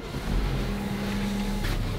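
A new Mercedes-Benz G-Class diesel test-drive car at a Mercedes camping event at Fumotoppara runs with a steady, low engine drone close by, with no talk.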